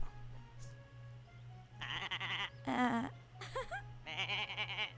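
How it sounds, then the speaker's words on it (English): Several high, wavering sheep bleats from a black sheep in the video game Summer in Mara come one after another over a quiet, steady low hum, each bleat distinct and fairly close. "And here is the exciting sheep."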